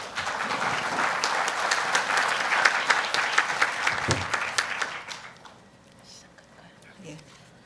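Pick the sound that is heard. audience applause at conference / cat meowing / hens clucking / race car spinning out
audience applause at conference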